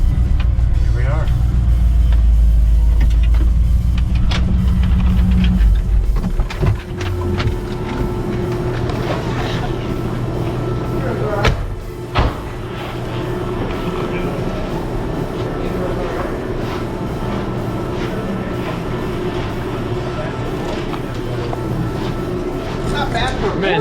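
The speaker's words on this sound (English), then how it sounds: "Who needs coffee when you can go for a ride in a supercharged Coyote truck?" Supercharged Ford Coyote V8 truck driving, a loud low engine roar swelling in the first few seconds, then a steady cabin drone with road and rattle noise, with people talking over it.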